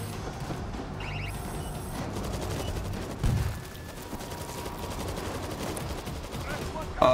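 Automated turret in the zombie shooter World War Z firing steady bursts of gunfire throughout, with a louder low thump near the middle and another at the end, mixed with game noise.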